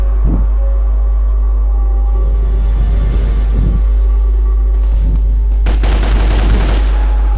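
Gunfire in the action game Devil May Cry, several heavy thumping shots in irregular bursts over a constant deep low drone, getting denser toward the end.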